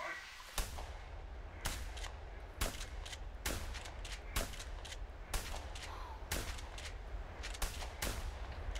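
Shotgun blasts at ducks in a bayou in the hunting game The Hunter 2017, sharp loud reports spaced about a second apart in a steady rhythm over a low ambient rumble.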